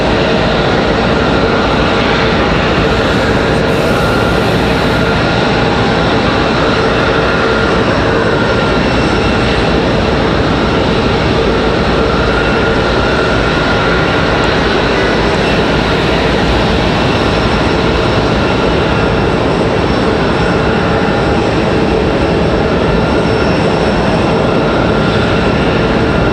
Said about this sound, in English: we wait for this American 777 to go back to London